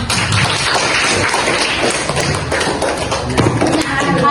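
Classroom applause from a group of students, a dense steady patter of many hands clapping at close range for several seconds, with light thuds mixed in and no talk over it.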